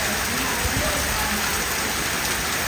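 Heavy rain pours steadily under trees in the gloomy early evening, a dense, even hiss that fills the whole clip with no breaks.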